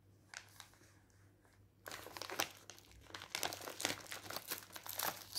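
A balloon kit is pulled out of its zip-line plastic pack, starting with a few quiet rustles and then continuous close, loud crinkling and crumpling of plastic.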